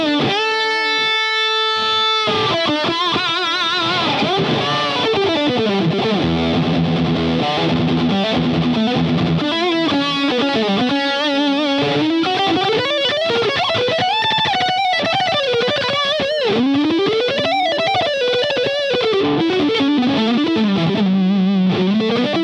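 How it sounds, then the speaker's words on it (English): Electric guitar through a Boss DS-1 pedal with distortion all the way down and level all the way up, playing a continuous, loud, gritty melodic line with bends and slides. "So this is distortion all the way down,"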